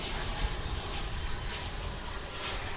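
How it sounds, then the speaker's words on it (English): An American Airlines Airbus A319 jet lands at Dallas Fort Worth International Airport. Its engines give a steady, broad roar at a distance, unbroken for the whole stretch, with no voices. "It's a A319 American Airlines flight 2326"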